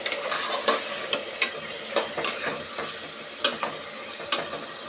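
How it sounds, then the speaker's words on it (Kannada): Ground masala paste frying in oil for a dal biryani, giving a steady close sizzle broken by repeated scraping stirs of a spoon against the pan, with no talking. "ಮಸಾಲೆ ಸೇರಿಸಿ ಚೆನ್ನಾಗಿ ಆಯಿಲಲ್ಲಿ ನಾವು ಹಸಿ ಸ್ಮೆಲ್ ಹೋಗೋ ತನಕ ನಾವು ಫ್ರೈ ಮಾಡ್ಕೊಬೇಕು"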